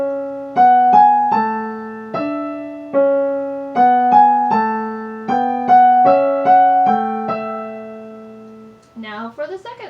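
First line of Bach's Marche played on a keyboard: a steady sequence of clear, separate notes in a moderate march rhythm, each decaying before the next. A short, brief different sound closes the passage, and there is no talking.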